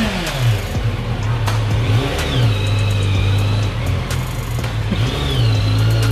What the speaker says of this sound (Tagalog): Sound check natin, Z900 SE 2025